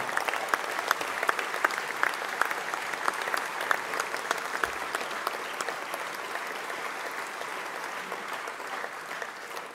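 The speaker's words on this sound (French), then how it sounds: "On peut aussi les applaudir avec tout le cœur qu'ils mettent pour nous accueillir." Warm audience applause at a French political gathering, many hands clapping steadily for nearly ten seconds, crisp individual claps standing out above the even roar.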